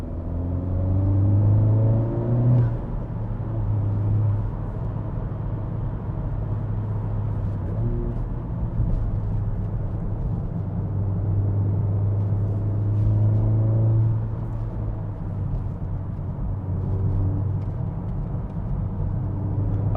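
A Honda Civic Type R FK8 hatchback is driven, with a loud, steady low engine drone and road rumble heard from inside, rising briefly with throttle at the start and near the middle.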